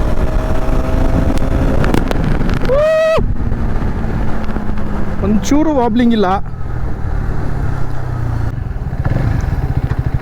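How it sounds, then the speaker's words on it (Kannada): An Xtreme 250R 250cc motorcycle's exhaust while riding: a loud, steady engine drone with sharp revs climbing in pitch, over road and wind rush, as someone talks through it. "ಎಕ್ಸಾಸ್ಟ್ ಸೌಂಡ್ ಹಂಗೆ ಕೇಳಿಸ್ಕೊಡ್ರಿ"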